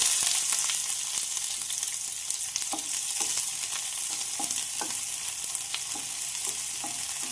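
Mustard seeds, cumin and chopped onion frying in a pan, giving a steady sizzle with scattered small pops and crackles throughout, close and even in level with no voices.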